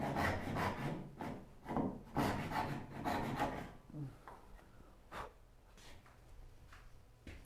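Hand sawing of wooden tenons for a Moxon vise makes rhythmic, rasping back-and-forth strokes that are close and clear. The strokes come in steady runs, then thin out to scattered single strokes.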